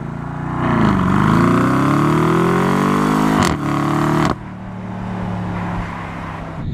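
A BMW M850i sedan's engine climbs and sustains high revs in a lower gear while driving through curves, loud and close, with a brief shift blip before the drone drops to a lower, steadier cruise.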